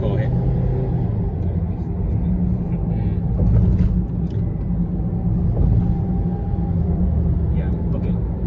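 Perodua Myvi hatchback, 1.5H or 1.3X, accelerating hard on the road, a steady loud engine drone and road rumble heard from inside the cabin, with voices talking over it.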